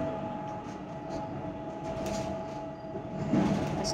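A moving train near St. Thomas Mount in Chennai rumbles steadily, with a low continuous roar and faint rattling from the carriages. The sound holds at an even level throughout, with no voices.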